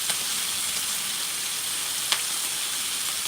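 A large batch of bacon frying in a pan gives a steady, dense sizzle and crackle, close and even throughout with one sharp pop near the end and no talking.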